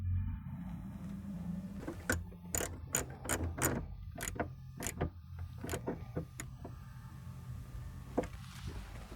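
Bolts going back into the shifter boot of a 1990-98 Jeep Wrangler with an AX15 manual transmission, heard as a string of close, sharp ratcheting clicks and short rattles over a low hum, with no talk.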